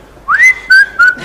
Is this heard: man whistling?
yes